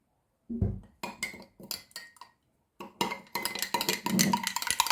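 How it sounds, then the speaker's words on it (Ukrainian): A utensil clinks and scrapes against a cup in quick, repeated strokes while stirring egg, salt and oil for varenyky dough, becoming a faster continuous rattle toward the end. "розмішую гарненько"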